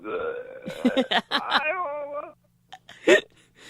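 A voice imitates a burp: a long croaky, gurgling belch followed by a short pause and a quick second grunt.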